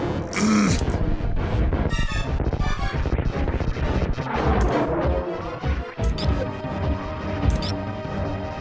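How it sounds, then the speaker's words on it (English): Super missiles fire repeatedly in Super Metroid during the Crocomire fight, a dense run of loud crashing, smashing blasts packed close together with rumbling game noise underneath. "just gonna waste all my super missiles"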